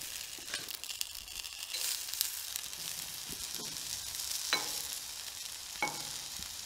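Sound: soaked rice added to a clay pot

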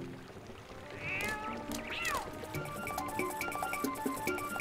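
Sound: cat meowing in Zelda Twilight Princess video game

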